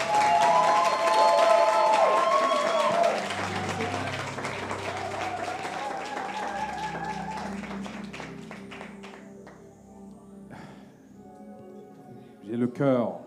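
Audience applause and cheering at a Caribbean neighborhood podium show, crowd noise mixed under loud music and a host talking, fading toward the end before a short sharp burst.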